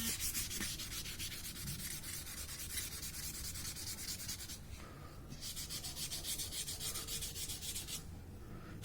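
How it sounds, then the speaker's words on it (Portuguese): A Chevette steel wheel is sanded by hand, giving a faint, continuous rasping rub in quick back-and-forth strokes with a short pause midway. "Mas aí depois tem que lixar com a mão para arredondar"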